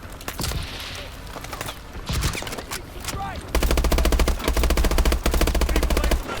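Rapid automatic gunfire from the shooter game Call of Duty: Advanced Warfare, loud sustained bursts after a few scattered shots, with someone talking excitedly over the game action.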